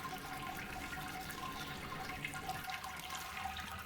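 Hot sparge water at 76 to 80 degrees poured from a jug or pot over the grain bed while brewing an IPA, a steady continuous splashing and trickling pour, close and even throughout with no talk.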